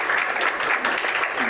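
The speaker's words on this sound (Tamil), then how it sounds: "பெரிய கைத்தட்டல் கொடுத்துருக்கோம்" An audience at a Tamil public talk claps loudly, a brief burst of dense, close applause with no talking.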